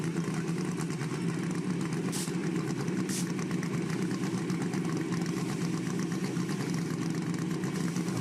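Nitrous-equipped Suzuki drag racing motorcycles sit at the starting line, their engines idling in a steady, continuous rumble with a couple of brief sharper bursts, loud and close, with no talk.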